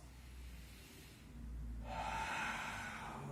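A Pilates student's breath pushed out from the diaphragm during a twisting exercise, a soft airy rush that swells in the second half and stays steady and close, with no talking over it.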